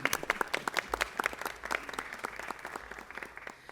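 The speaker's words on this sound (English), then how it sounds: "If we could give them all a round of applause again" A crowd at a Los Angeles council meeting applauds steadily, many hands clapping at once, fading slightly toward the end.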